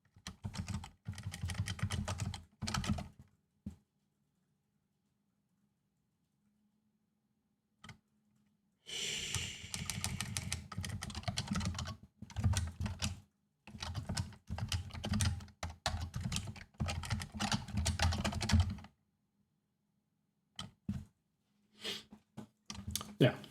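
Typing on a computer keyboard while writing Haskell code, with bursts of close, clicky keystrokes separated by pauses and a soft low hum underneath; occasional breathing is audible.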